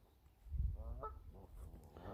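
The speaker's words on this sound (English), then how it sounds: "I think the geese are getting ready to depart from here." Geese honking at a pool on a nature reserve as they get ready to fly off, a short burst of calls in the middle with quieter honks following, heard outdoors in cold weather.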